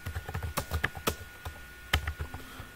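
Close, crisp typing on a computer keyboard while C# code is written, a fast flurry of key clicks, a brief pause, then another cluster of taps and a firmer keystroke, no one talking.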